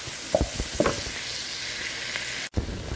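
Rainbow chard stalks cook in a pan with a steady, close frying sizzle, punctuated by a few soft stirring knocks and a brief dropout near the end.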